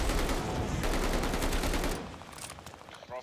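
Rapid automatic gunfire from Call of Duty Vanguard multiplayer blasts loudly in a dense burst for about two seconds, then drops off into quieter trailing shots and faint game noise.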